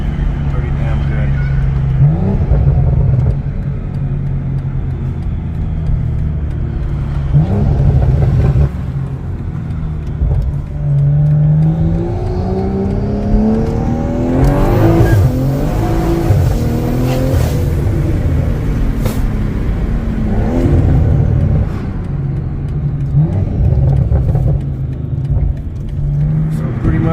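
A BMW M340i fitted with a turbo upgrade and T51R mod revs and accelerates, its engine rising and falling in a loud, sustained drone with whooshing surges, with a voice talking over it at times.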